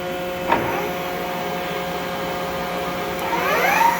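Spindle of a Union BFT 105 CNC horizontal boring mill turning at 1,000 RPM, a quiet steady whine with faint harmonic tones, heard from about a foot away, with a small knock early and a rising sweep near the end.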